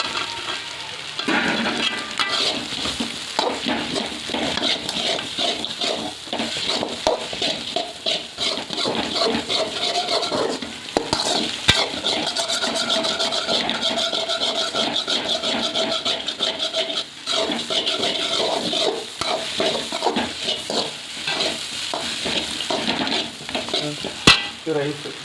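Chicken stir-fried with carrots in a pan for home-style chicken rice, a continuous loud sizzle with frequent scraping and clattering of a spatula against the pan, close and busy for the whole stretch.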